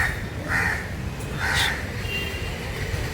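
A crow caws a few times outdoors, two or three harsh calls rising above a steady background rumble, at moderate distance.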